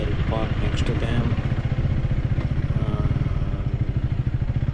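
A motorcycle engine idles with a steady low throb at close range, with light clatter and thumps as the bike is parked beside others at a campsite, continuous through the whole stretch.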